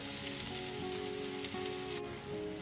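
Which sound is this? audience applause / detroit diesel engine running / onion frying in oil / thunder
onion frying in oil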